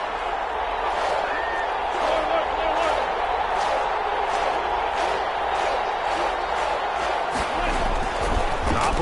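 A stadium crowd roars in an American football video game as a big third down approaches, a loud continuous wash of cheering with rhythmic pulses of noise throughout.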